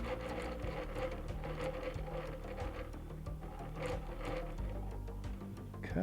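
A sewing machine runs steadily, stitching back and forth to lock the seam, with a continuous close mechanical whirr and no talking.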